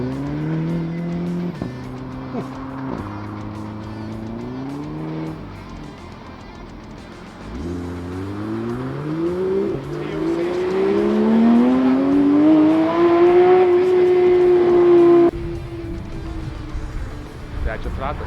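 A VW Scirocco races around the Nemunas Ring, its engine rising through the gears in repeated climbing whines from inside the car, with the revs building to a sustained high pitch as people talk over it.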